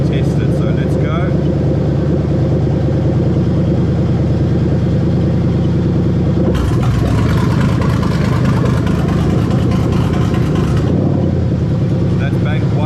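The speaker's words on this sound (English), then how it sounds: "you're going to hear the engine make a really weird noise when I test it" A Lexus 3UZ-FE V8 idles steadily, then shifts abruptly into a rougher, harsher noise for several seconds during a VVT-i solenoid test before settling back to idle.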